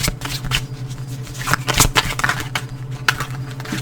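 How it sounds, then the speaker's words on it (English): Tarot cards being shuffled close by, a rapid riffling and flapping with uneven bursts and soft taps between them. "Hopefully I'm not blowing out my sound with the shuffling"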